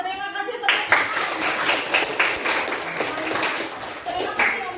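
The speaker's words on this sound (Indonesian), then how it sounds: "terima kasih tepuk tangan" Classroom applause after a group's presentation about Gajah Mada, a short round of clapping from several students with distinct hand claps, while a voice speaks over it.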